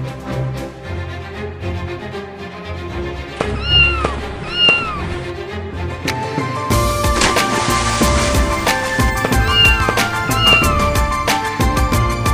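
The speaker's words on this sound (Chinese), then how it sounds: "切，不就是一只猫吗？" A cartoon cat gives several short, high meows that come in pairs against a busy animated background. Music and effects grow louder and fuller partway through.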